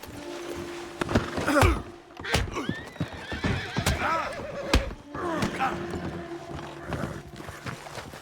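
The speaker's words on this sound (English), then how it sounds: "Arthur tracked a group of wild horses and ended up breaking a cute Mustang" A wild Mustang in Red Dead Redemption 2 neighs and whinnies repeatedly amid hoof clip-clops and snorts, close and lively, with other horse noises and shuffling around it.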